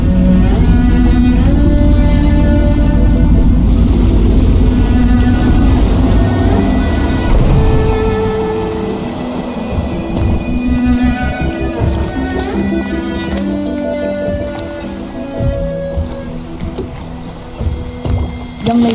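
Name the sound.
boat being piloted in video game Dishonored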